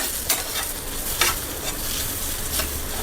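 A spatula stirs a snake gourd and egg stir-fry in a hot pan, with a continuous sizzle and four or five sharp scraping strokes spaced through the clip.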